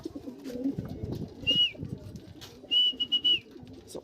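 Racing pigeons back at the loft make soft low cooing and rustling, with two clear whistled calls rising above, one short and one longer, close and fairly quiet.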